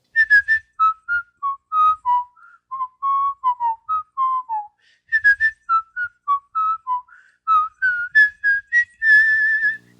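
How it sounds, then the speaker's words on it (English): A person whistles a wandering melody alone, phrases of short and held notes separated by brief pauses, close and clear. "my whistling is terrible"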